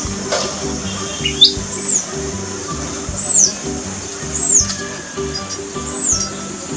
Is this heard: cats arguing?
no